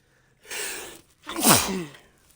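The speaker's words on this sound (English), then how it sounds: "Sneeze again." Two sneezes from one person, each a loud sharp burst, the second stronger with a gasping intake, alone with no talk.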